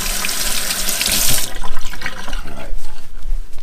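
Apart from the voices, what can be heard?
tap water running while rinsing fingers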